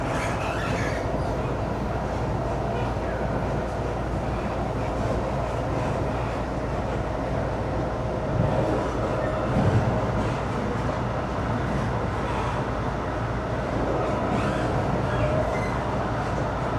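Brightline premium passenger train running between Fort Lauderdale and Orlando, heard from inside a carriage: a steady, continuous low rumble and rolling wheel noise with faint rattles throughout, no talking.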